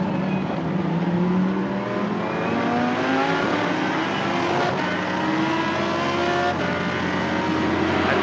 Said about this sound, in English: And then the roar from that engine.